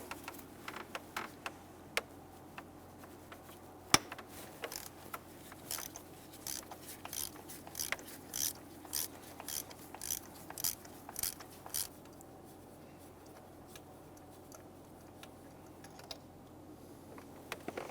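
Ratchet clicks from a 5/8 spark plug socket on an extension as a spark plug is loosened on a 2011-2019 Ford Explorer 3.5L V6, coming in quiet bursts of rapid ticking with short pauses over about eighteen seconds.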